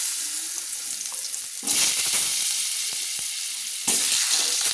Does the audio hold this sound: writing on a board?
no